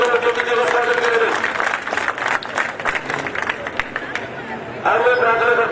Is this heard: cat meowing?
no